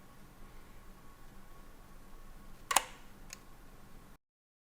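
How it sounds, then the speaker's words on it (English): Thompson's Revolver Camera shutter mechanism firing: a sharp metallic snap followed about half a second later by a fainter click, close and isolated over quiet room hiss. "It drops down from the viewfinder into the main camera body, at the same time releasing the shutter and taking the photograph."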